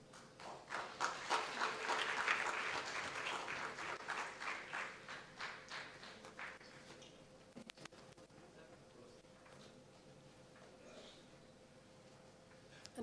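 Audience applause at a book release, rhythmic clapping that swells early, gradually thins and fades out by the middle, leaving quiet room tone with faint background murmur.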